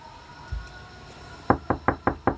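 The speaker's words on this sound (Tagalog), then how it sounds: "totoo nga kumakatok" Someone knocks on a door, six evenly spaced, firm raps close by after a quiet stretch with one faint thud earlier.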